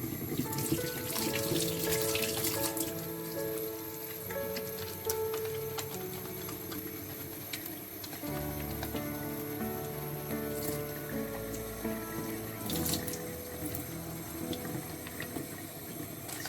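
A tap runs steadily into a sink while homemade egg soap is lathered by hand, with continuous splashing water and small clicks and knocks throughout.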